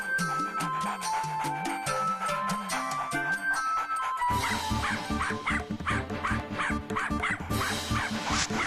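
Cartoon dog barking in a Hindi animated show, a run of short loud yips and barks repeating rhythmically over a busy music bed in the second half, with no talk.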